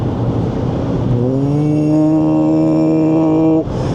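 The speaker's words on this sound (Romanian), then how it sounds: "Se aude motorul când accelerezi, auzi, dar mie îmi place." A Dacia Bigster full hybrid's 1.8-liter naturally aspirated engine revs up loud and close, its pitch climbing smoothly before settling into a steady drone and cutting off.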